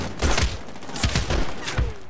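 Gunfire in Medal of Honor Warfighter multiplayer, a few loud booming shots spaced across the moment with a rumbling low body and a faint sweep between them, no speech.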